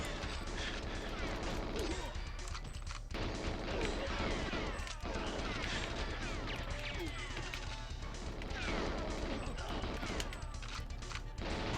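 Rapid gunfire and crashing impacts from GoldenEye 007's Silo level, a loud, dense barrage running through the whole stretch with speech over it.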